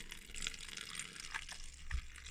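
Dirty cleaning water from servicing a 1973 Seiko 5 watch being tipped back into a container, a faint, brief splashing trickle heard close up with a small slosh near the end.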